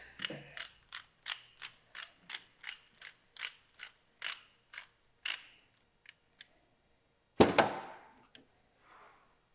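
A socket wrench ratchets on a Yamaha R7 motorcycle using a 1 1/16 inch socket, giving a steady run of about fifteen close, crisp clicks, then a few sparse ticks and one louder metallic clunk near the end.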